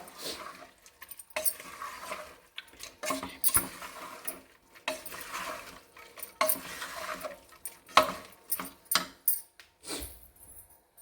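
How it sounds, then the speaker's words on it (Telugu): Spoon stirring a dal kichidi mixture in a metal pot, a run of clinking scrapes and soft knocks in uneven bursts, close and fairly quiet, with no talking. "ఇప్పుడు మంచి కలుపుకోవాలండి ఇదంతా."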